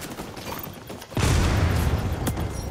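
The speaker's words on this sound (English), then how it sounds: "I got myself with that grenade." A grenade bursts close by in XDefiant, a sudden heavy boom about a second in that rolls into a dense rumbling tail amid game gunfire.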